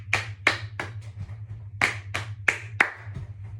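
Sharp hand claps in an uneven rhythm from a group playing the Pat, Clap, Thump game, with a steady low hum running underneath.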